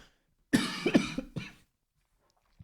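A burst of several harsh coughs close to the mic, a quick cluster followed by one final cough, then quiet.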